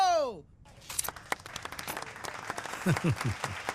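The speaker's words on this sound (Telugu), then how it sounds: "చప్పట్లు." A short burst of clapping and applause from a group in a movie scene rises after a brief tonal sound and continues steadily for a few seconds, with a voice speaking near the end.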